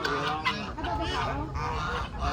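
Goose or duck honking nearby at a party venue in Tagaytay, a steady run of nasal calls lasting a couple of seconds, with children and adults chattering around it.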